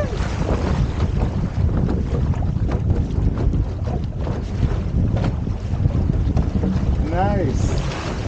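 A small First Mod sailboat moves through wind and small waves on San Francisco Bay, with heavy gusting wind buffeting the microphone, water rushing along the hull, and a brief voice near the end.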